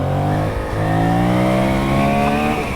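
A 2021 Yamaha MT07 motorcycle runs at speed on a highway, its engine note rising steadily as it accelerates, close and continuous under wind roar.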